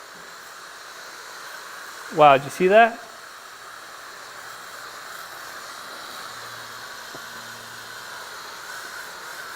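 A Dupray Neat steam cleaner works paint off concrete with a continuous, even hiss that stays steady throughout. A person briefly speaks over it near the start.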